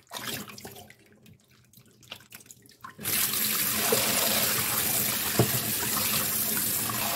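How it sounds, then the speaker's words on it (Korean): Beef short ribs are handled in a bowl for a few seconds with small clinks, then a tap runs steadily and loudly while the bone dust is rinsed off in water. "뼈가루들을 한번 씻어내 주시고 담가 주시는 것도 좋을 것 같아요."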